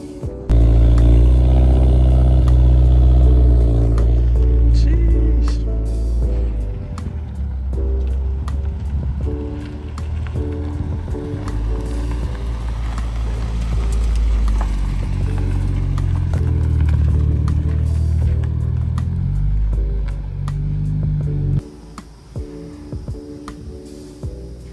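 A car engine drones steadily on a dyno during tuning in a cold shop with fans running, holding a sustained tone that shifts pitch in stages before dropping off near the end.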